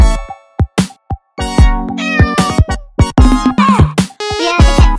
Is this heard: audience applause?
no